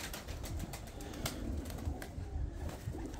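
Breeder pigeons coo softly and continuously in a loft in Bradford, UK, with low murmuring calls layered over a steady background and a few brief sharper sounds.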